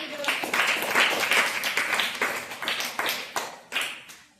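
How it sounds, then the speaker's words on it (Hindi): Students in a classroom clap for a classmate, a burst of quick, uneven hand claps from a small group that tapers off toward the end. "ताली बजा दो इनके लिए"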